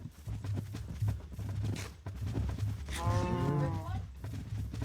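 Cows moo in a survival video game, a drawn-out low call around the middle of the clip rising over a steady hum of game ambience and other farm-animal noise.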